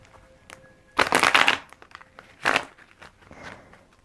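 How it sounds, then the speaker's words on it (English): Two quick bursts of tarot cards being shuffled close by, then a softer riffle, with light handling noises and quiet gaps in between. "Let's shuffle properly."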